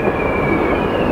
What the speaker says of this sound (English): and there is the train